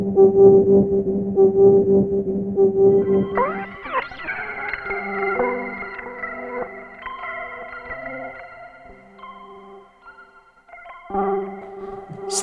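A synth played through a Boss DM-101 analog delay set for heavy modulation, its sustained notes wavering and pitch-bending with warbling repeats, loud at first and then trailing into softer layered echoes, with no talking.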